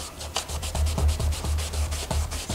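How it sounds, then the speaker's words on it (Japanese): Wooden clock parts from a DIY kit being rubbed with hot water to lift hardened glue: a steady series of soft, close scrubbing strokes in an even back-and-forth rhythm, quiet and alone. "60度以上 のお湯で磨いてあげると固まったボンドも溶けて、えー、と取りやすくなってくれます"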